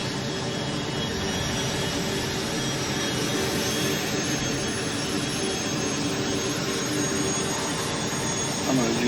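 A Cessna Citation Mustang C510 jet in Microsoft Flight Simulator starting its takeoff roll, a loud, steady jet-engine roar and whine that holds throughout.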